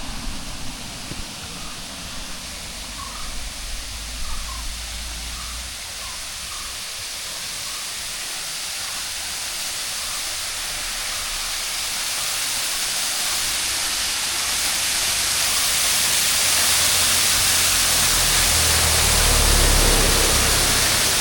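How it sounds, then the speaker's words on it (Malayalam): Small roadside waterfall in Idukki, Kerala, a steady broadband rush of falling water that swells gradually louder as it is approached, with faint distant noises early on and no talking. "ചെറുതാണെങ്കിൽ നല്ല ഭംഗിയുള്ള വെള്ളച്ചാട്ടം"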